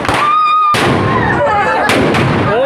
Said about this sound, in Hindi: वहां के नकली बम तो यही असली है